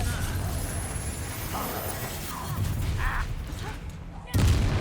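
Confringo fire spell blasts in the video game Hogwarts Legacy, loud bursts layered over a dense, continuous wash of battle noise, with a heavy low-frequency hit near the end.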